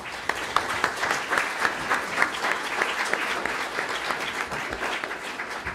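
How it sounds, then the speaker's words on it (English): A seated audience gives a panel steady, even applause from many hands. It stays loud for several seconds with faint crowd murmur mixed in. "a round of applause for our panel, please"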